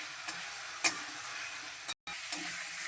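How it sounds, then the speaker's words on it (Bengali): Pre-fried potatoes being sautéed with spices in a pan for a soybean curry, a soft steady sizzle with a couple of brief stirring knocks and a momentary dropout near the end. "এবার আমি ভেজে রাখা আলুগুলো দিয়ে দিচ্ছি। দিয়ে মশলার সঙ্গে আরও কিছুক্ষণ কষিয়ে নেব।"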